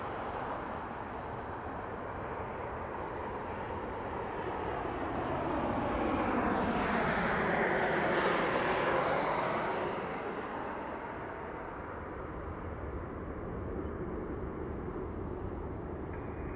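Spirit Airlines Airbus A320 departing Harry Reid Airport in Las Vegas, a broad jet engine roar that swells to a loud peak mid-way and then fades as it passes, heard from a distance with no talk.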